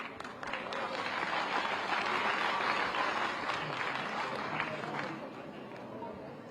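Applause from an audience at a Dehradun World Minority Rights Day event welcoming guests, a steady, moderately loud wash of clapping with crowd murmur underneath, swelling then easing slightly near the end.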